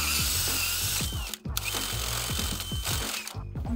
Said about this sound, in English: I'll drill a hole right beside there